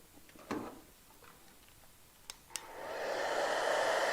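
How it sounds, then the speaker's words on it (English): A blow dryer on a low setting dries a lace front wig, starting with a few clicks and handling sounds and then rising into a steady airy rush that grows louder and continues to the end. "I'm gonna use my blow dryer so it can dry a little faster."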